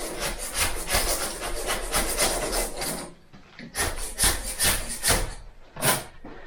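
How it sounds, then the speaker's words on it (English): Old plaster is scraped off a house wall in harsh, rhythmic rasping strokes, first a long continuous run, then a pause, then several separate loud scrapes. "there's the plaster coming away"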